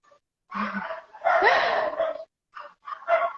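Dogs bark outdoors during a New Year's Eve live stream, giving several short bursts of barking and yipping at close range with brief silent gaps between them.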